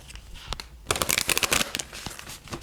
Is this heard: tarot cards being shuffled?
yes